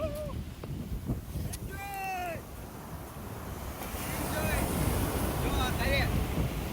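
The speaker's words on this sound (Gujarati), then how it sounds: "જો તમે આ જોઈ શકો છો અહીંયા મોજા કેવા મીટર આવે છે." Sea waves wash in on a shore where the water turns deep right away. Their steady rush is heavy with wind buffeting the microphone, and voices can be heard over it.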